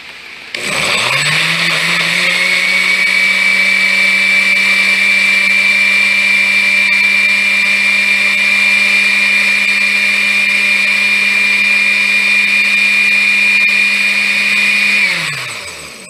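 A kitchen blender runs steadily for about fifteen seconds, blending salsa with water, its motor whine loud and even from start-up to stop.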